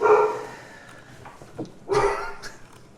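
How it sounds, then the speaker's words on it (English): A mastiff dog barks in a video game, a couple of harsh, exaggerated barks at moderate loudness, with quieter gaps between them. "no real dog would bark that horribly"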